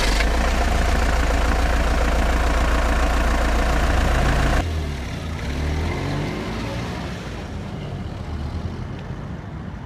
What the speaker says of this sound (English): Peter started the engine and drove off.